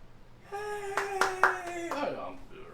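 A few people in a podcast studio clap their hands in a brief scattered burst of about four or five claps, close to the microphone, mixed with a drawn-out shouted voice.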